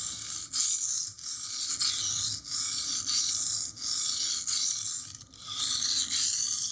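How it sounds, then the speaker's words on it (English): A knife blade rubs back and forth on a Lidl Parkside sharpening stone in regular rasping strokes, about one per second, each scrape close and loud with brief pauses between. "So I'm looking at sharpening this part of the blade."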